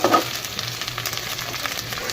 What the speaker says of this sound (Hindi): 4 हरी लाल मिर्च, 4-5 गोल मिर्च, इनकी भी हम भुनाई कर लेंगे।